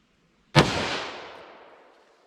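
A single sharp gunshot from a .357 Magnum firing Underwood Xtreme Defender ammunition, a loud crack followed by a long fading echo, heard alone in an otherwise quiet setting.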